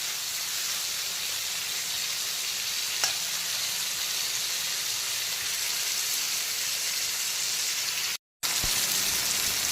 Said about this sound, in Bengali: আর আমি মশলাগুলোকে বেটার টেস্টের জন্য তেল দিয়ে ভেজে নিচ্ছি